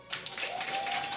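A live audience at an evening show in Sherbrooke, Quebec, breaks into a short burst of applause: dense, bright clapping from many hands, fairly close, lasting about a second.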